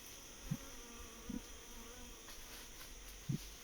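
Honeybees around a nucleus hive in Malta with a freshly mated, laying queen, heard as a faint, steady insect hum with a few soft low thumps, no voices.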